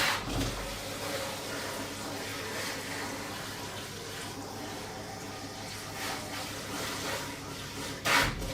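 Tap water runs steadily while a baking tray is rinsed in a kitchen sink, a continuous close wash of water with a few brief knocks and splashes.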